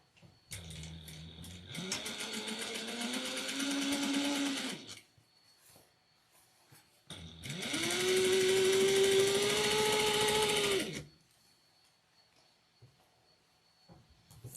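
A sewing machine runs in two sustained bursts, stitching a 5/8 inch seam on a triangular shoulder bag, its motor whirring steadily and loudly with a short pause between runs.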